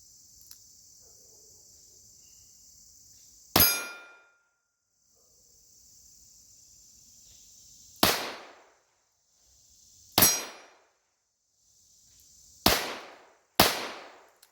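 A Taurus 942 revolver firing outdoors, five sharp loud gunshots with decaying echoes, spaced irregularly several seconds apart over steady insect chirping.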